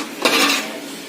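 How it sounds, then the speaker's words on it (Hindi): Moong dal is stirred in a cooking pot: a single brief scraping rush of spoon against metal, close and fairly loud, fading quickly. "और अब आपको इसे अच्छे से वापस मिक्स करना है।"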